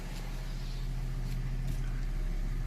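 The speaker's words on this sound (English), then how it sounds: "I've just started the car" A BMW E39's engine idles steadily just after a cold start, a low, even rumble heard close and continuous with no voices.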